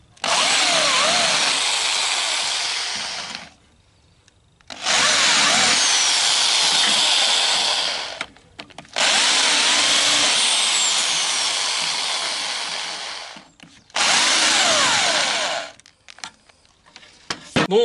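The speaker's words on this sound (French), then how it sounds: "j'effectue un léger fraisage pour que les rivets disparaissent dans la tôle" A drill countersinks rivet holes in the body sheet metal of a Citroën Traction 11B, running in four long, loud whining bursts separated by short pauses.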